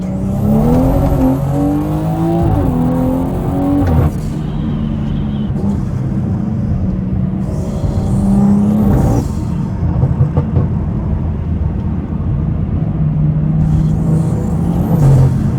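A 500 hp BMW 340i drives on snowy roads, its engine revving up and down through repeated pulls with steady road rumble, loud and close from inside the cabin.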